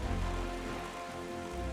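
Steady rain falls in The Legend of Zelda: The Wind Waker HD, a soft continuous hiss of drops on surfaces, low and even, with no voices.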